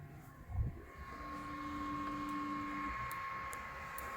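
A 3D printer runs a bed screw tilt probing routine with a clicky probe, giving a steady stepper-motor whine with sustained tones and a few light ticks, close and quiet.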